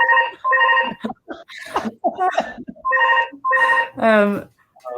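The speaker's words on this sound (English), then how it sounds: "whose actual phone rings anymore these days?" A mobile phone rings in repeated electronic bursts, loud and close, interrupting a speaker at an innovation and start-up showcase event; brief talk falls between the rings.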